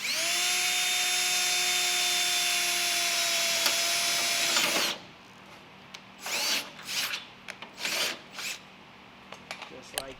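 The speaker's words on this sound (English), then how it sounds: "So what you got to do, you got to drill a hole." Drilling a hole in sheet metal while fabricating coolant pipes for an early Porsche 911 water-cooled conversion: a steady whining drill runs loud for about five seconds, then stops, leaving short scraping bursts and handling noises.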